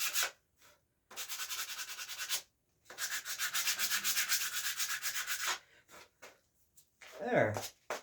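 Sanding strokes rub across the tip of a horse bow in two long, steady bursts with short pauses between, close and fairly soft, then a brief voice at the end.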